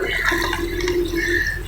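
Water streams and trickles as it drains off soaked millet seeds, a steady splashing wash of liquid that runs continuously and close by, with no voices over it.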